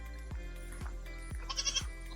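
Goats on a farm, kept beside pigs, bleat with a few short bursts, followed by a brief higher chatter, close and fairly loud over a low steady hum.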